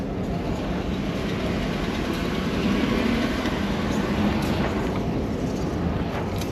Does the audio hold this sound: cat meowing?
no